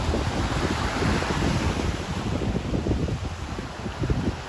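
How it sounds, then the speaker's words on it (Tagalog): Sea waves wash steadily onto a beach, a continuous roaring surf with heavy wind buffeting the microphone throughout and no talking. "Andun si Daddy nagsosolo ngayon sa dagat."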